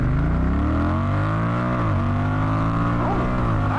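A Honda Rebel 1100 DCT motorcycle pulls away hard in automatic mode, its engine note climbing loud and close with smooth automatic gear changes, a continuous rising drone without speech.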